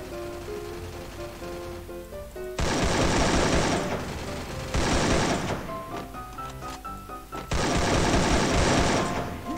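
Loud sustained bursts of automatic gunfire in the video game Free Fire come in three long volleys with short gaps between them, close and dominant over faint background game sound.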